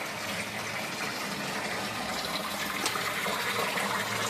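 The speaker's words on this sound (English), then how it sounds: "You can hear the pump working really well." A sump pump runs in a house in Redondo Beach as test water drains through it, giving a steady, close, continuous rush of gushing water and pump noise with no speech.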